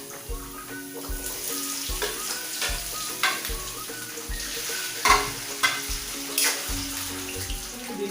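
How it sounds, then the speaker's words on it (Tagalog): Potatoes sautéing with garlic in a pan, a steady close sizzle with regular rhythmic stirring scrapes and clatters of a spoon against the pan, no talking. "ginigisa ko na rin yung patatas para lumambot siya"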